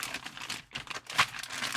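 Plastic packaging from an RC crawler kit crinkles and rustles in steady bursts, close and fairly quiet, with a sharper crackle near the end and no talking.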